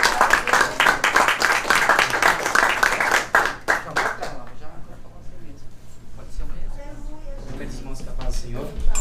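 Congregation at a church service applauding, a dense burst of many hands clapping loudly for about four seconds, then fading out as a voice speaks over it.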